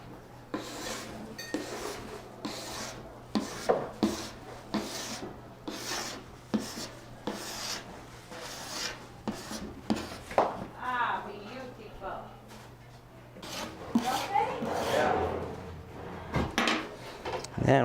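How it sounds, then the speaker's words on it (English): A spatula scrapes clay off a desk top at close range in repeated short rasping strokes, with quieter pauses between them and a steady low hum underneath. "just use a spatula and you'll scrape it up"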